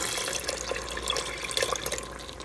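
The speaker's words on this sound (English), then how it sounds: "I'm also gonna put in about a cup of the broth." About a cup of broth is poured into a Cosori pressure cooker while making chili, giving a close, continuous liquid splashing with small bubbly peaks and no talking.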